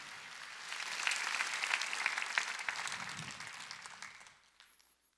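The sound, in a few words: congregation clapping at church service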